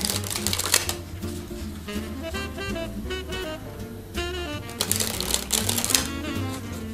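A deck of playing cards riffled off the thumb during a card flourish, producing rapid fluttering ticks in quick bursts with brief pauses, close and crisp.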